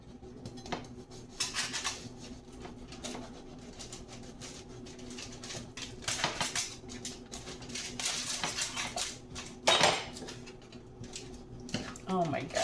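A kitchen knife saws and clatters against a plate while cutting a homemade meatball submarine sandwich, with irregular scraping and knocks close by and someone talking throughout.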